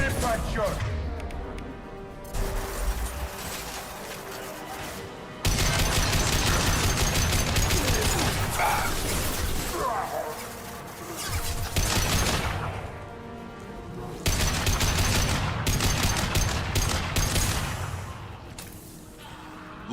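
Bursts of gunfire rattle through Mass Effect 2 combat on Omega, loud volleys returning in waves with crashes and whooshes mixed in, and voices talking over the fighting.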